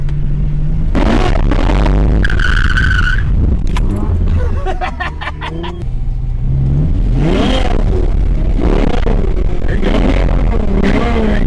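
A Ferrari F12 Berlinetta drifts donuts, its engine revving and swelling repeatedly as the throttle rolls on, with squealing tyres and a sputtering burst between surges, loud and close, with people talking over it.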